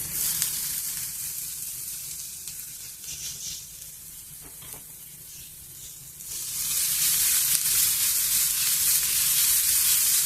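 Grated radish and onion fry steadily in a hot pan, a continuous loud sizzle that dips briefly as it is stirred, then swells back up.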